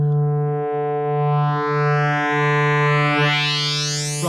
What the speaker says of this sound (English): Right, so that's classic wave folding.